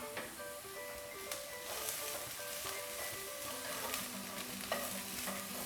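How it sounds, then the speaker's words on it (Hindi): Chopped capsicum stir-frying in a pan for Singaporean rice, with a steady broadband sizzle and intermittent scrapes and stirring knocks; a faint tonal hum runs beneath it. "इसको थोड़ा सा भून लेंगे"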